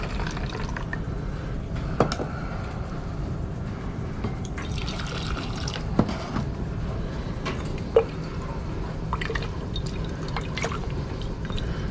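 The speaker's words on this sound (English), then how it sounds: "This is hot water." Hot water, boiled in a kettle about ten minutes earlier and no longer steaming, poured steadily for rinsing during gold recovery from computer parts, a continuous close liquid pour with a few small clinks and drips.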